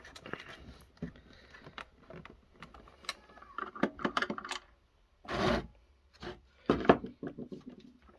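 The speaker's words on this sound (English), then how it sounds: "so I'll take the old standard screwdriver. We'll get this one out." Screws are being backed out of an office phone casing with a standard screwdriver: quiet scattered clicks, scrapes and rattles of metal on plastic, a few sharper knocks and a short rasping burst, close up with no voices.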